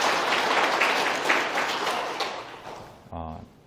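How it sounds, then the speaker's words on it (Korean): A Catholic congregation at a Mass for the Feast of the Baptism of the Lord gives around a hundred visiting travelers a warm, sustained round of applause that gradually tapers off before a voice resumes speaking. "여행 오신 분들을 위해서 환영의 박수"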